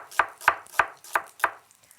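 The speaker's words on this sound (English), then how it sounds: "I'm just going to slice the onions." Knife slicing through an onion on a cutting board: five crisp, evenly spaced chops about a third of a second apart, close and clear, then a short quiet tail.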